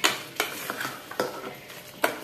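A spoon stirs a semolina batter in a bowl, giving a few distinct scraping strokes about every half second or so, close and moderately loud with no talking.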